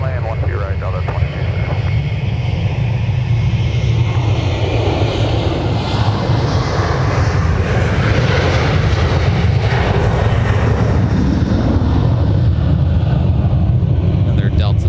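A Delta Boeing 737-900ER jet departing MSP airport, its engines roaring loud and steady for the whole stretch with a broad rushing whine that swells and sweeps past, while a voice talks over it.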